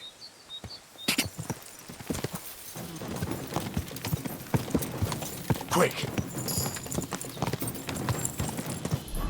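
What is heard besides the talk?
horse hooves galloping in video game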